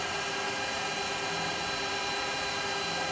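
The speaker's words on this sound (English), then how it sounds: "Right, so drill that in." A power drill runs continuously, boring a small 2.5 to 3 mm hole in a woodturning workshop, with a steady whining drone that stays loud and close throughout.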